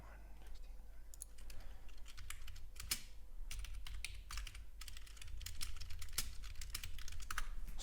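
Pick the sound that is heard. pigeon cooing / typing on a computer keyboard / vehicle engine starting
typing on a computer keyboard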